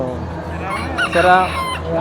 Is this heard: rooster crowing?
yes